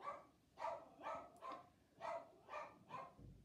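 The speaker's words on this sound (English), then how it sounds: "just waiting for that barking to end there" A dog barks repeatedly in a steady rhythm, seven or eight evenly spaced barks at a moderate distance, fairly faint and heard alone.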